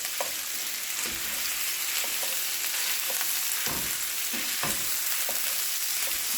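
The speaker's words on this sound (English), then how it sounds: "I'm going to smash up or crumble up my sausage." Crumbled sausage sizzles in a hot pan as a constant, bright frying hiss, with repeated scraping and tapping from stirring and breaking it up, close and without speech.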